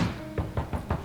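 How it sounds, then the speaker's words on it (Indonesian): Four quick, dull knocks on a door, close and evenly spaced, with no talking. "Seketika ada suara ketukan"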